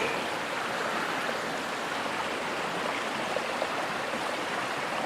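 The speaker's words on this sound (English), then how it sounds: "So I'm currently on Pilchuck Creek" Steady, broadband rushing of creek water flowing over rocks on Pilchuck Creek in Washington State, close and continuous with no voices.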